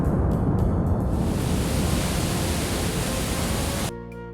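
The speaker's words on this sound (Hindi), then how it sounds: "हर 6 से 10 मिनट में जमीन के अंदर से उबलता हुआ पानी लगभग 60 फुट ऊपर आसमान की तरफ तेजी से निकलता है" An Icelandic geyser erupts, sending boiling water about 60 feet into the air as a loud, steady rushing hiss that cuts off abruptly into quiet music.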